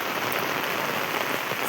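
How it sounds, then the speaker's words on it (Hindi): Heavy rain pours down in Meerut, India, a loud, close, unbroken roar of water drumming on surfaces without any voices. "देखो बस ऊपर कितनी तेज बारिश अब देखी"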